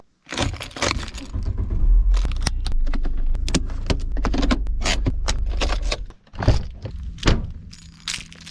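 Keys on a keyring hung with fishing lures jangle and clatter up close at a landbased fishing spot, with a dense metallic rattle for several seconds, then a few separate louder jingles and knocks.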